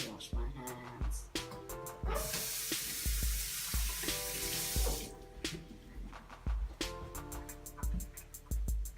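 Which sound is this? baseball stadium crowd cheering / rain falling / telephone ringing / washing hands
washing hands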